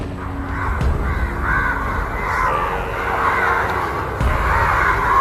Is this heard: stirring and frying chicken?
no